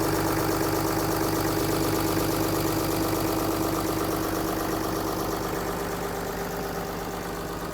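A 6.7 liter Cummins turbo diesel inline six in a 2016 Ram 3500 SLT 4x4 Mega Cab idles with a steady, close, even rumble that holds unchanged throughout, and no one speaks.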